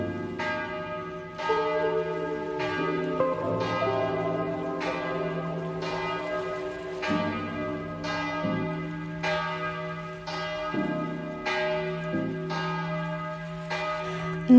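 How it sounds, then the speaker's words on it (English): A church bell in Prague's Old Town rings on and on, a steady sequence of resonant strikes roughly every second with long overlapping hum, loud and close, with no voices. "when I first heard the bell go, I thought it would just be for a minute or two on the hour"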